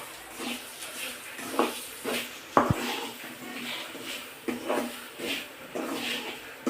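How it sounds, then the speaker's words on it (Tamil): Ukkaara sweet with grated coconut frying in ghee over low heat, stirred with scraping and clinking of a spoon against the pan in irregular strokes, including one sharper knock, with no talk. "கொஞ்சம் நல்லா வறுத்துடணும் நெய்யிலே"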